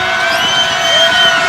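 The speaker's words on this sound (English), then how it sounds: "Crowd on their feet." Basketball arena crowd on its feet cheering in the final seconds of a women's game, a steady loud roar of voices filling the space without pause.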